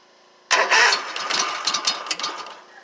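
Stihl BR800 backpack blower engine cold-started on choke: after a quiet moment the motor catches abruptly and roars loud and close, then sputters and pops unevenly as it settles toward a low idle.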